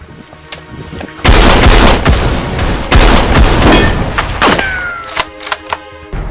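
Rapid bursts of loud gunfire crack out in clusters, several shots echoing sharply with brief pauses between volleys.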